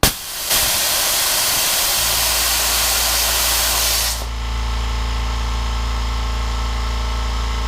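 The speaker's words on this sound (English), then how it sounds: "I'm talking with the air compressor running, and it's just a lot quieter than the traditional air compressor that I have in my garage" A Kobalt Quiet Tech air compressor starts with a loud hiss of released air. The hiss cuts off after about four seconds, leaving the motor's steady, low, even hum running close by with no talk.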